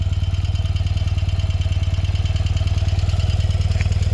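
A BMW R100RS motorcycle engine idles steadily and slightly high, a loud, close, even low thumping pulse that runs without pause or speech.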